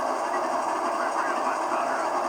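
A train rolls steadily past on a model railroad near a lift bridge, giving a continuous close rumble and whir with no breaks and no talk.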